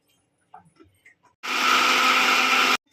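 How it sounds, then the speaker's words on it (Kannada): A kitchen mixer grinder blends fresh spinach (palak) into a paste, a loud steady whirring roar that starts abruptly and runs for over a second before cutting off, after a few faint clicks. "ಒಂದು ಮಿಕ್ಸಿ ಜಾರಿಗೆ ಪಾಲಕ್ ಹಾಕೊತಾ ಇದ್ದೀನಿ"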